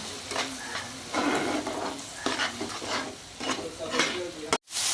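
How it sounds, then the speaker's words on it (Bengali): Spice masala with salt and beaten sour yogurt being fried and stirred for a Bengali rohu fish kalia, a busy close sizzle broken by repeated spoon scrapes against the pan, ending in an abrupt cut. "স্বাদ মতো নুন আর ফাটানো টক দই। এটাকে আমি ভালো করে কষিয়ে নেব।"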